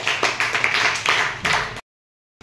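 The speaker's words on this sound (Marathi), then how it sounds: "टाळ्या वाजवा सर्वांनी" A group of children clapping their hands in a practice session, a short burst of claps that stops abruptly.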